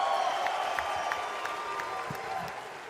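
An arena crowd at a Call of Duty League Grand Finals esports event applauds and cheers for OpTic Texas, a steady distant wash of clapping and voices under a faint hum.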